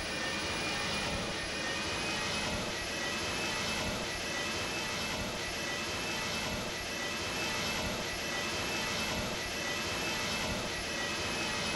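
MD80 jet airliner engines in Microsoft Flight Simulator X, a steady loud whine and roar that holds evenly throughout with no voices.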